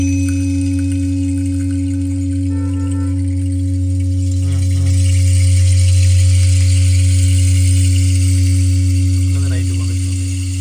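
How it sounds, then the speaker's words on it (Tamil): A steady high-frequency electronic tone panning left and right holds throughout above a low hum, with faint chirpy blips, on a three-way active car audio system in a Toyota Innova Crysta. "அதாவது இந்த ஹை ஃப்ரீக்வன்சி சவுண்ட் பார்த்து லெஃப்ட் ரைட் ஷிஃப்ட் மாறிட்டே இருந்திருக்கும்"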